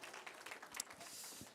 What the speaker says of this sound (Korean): 수고했다고 박수 한번 좀 쳐주시면